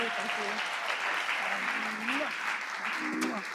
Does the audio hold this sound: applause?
yes